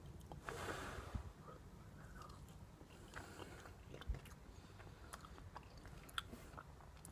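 Someone bites into breaded boneless white-meat fried chicken and chews close to the mic, with faint crunches and soft wet mastication sounds over a quiet background and no speech.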